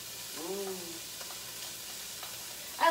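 Celery added to softened onions sizzles gently in a pan, a soft steady frying hiss with a few light clicks, with a brief voice near the start and a sharper clatter at the end.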